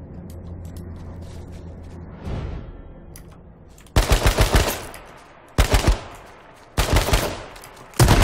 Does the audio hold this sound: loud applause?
no